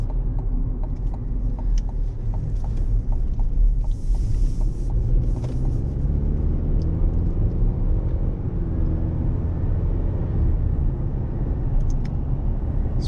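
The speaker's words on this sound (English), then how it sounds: "You definitely hear that motor once you get on it a little bit, as you can hear there." A 2024 GMC Canyon Elevation truck engine accelerating on a road, heard from inside the cabin as a steady, deep, continuous rumble with faint ticking and no speech.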